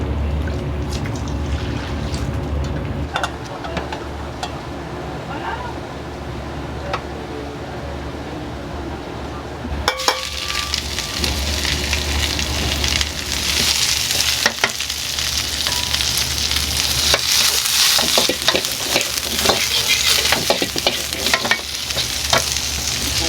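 Champon ingredients stir-fried in a wok in a Japanese restaurant kitchen: quieter kitchen clatter gives way to a loud, steady, close sizzle with scraping and tossing that continues to the end, no voices.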